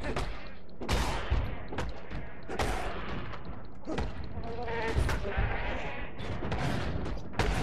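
Goat creatures bleating in the action role-playing game Path of Exile, loud repeated cries mixed with constant combat hits and blasts in a dense, busy fight.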